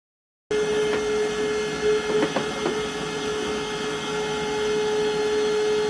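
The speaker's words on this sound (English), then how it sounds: "Who has to vacuum their vacuum before they start vacuuming?" A vacuum cleaner runs in a cluttered workshop, a continuous steady motor whine with a constant drone and a few faint knocks as it moves, loud and close throughout.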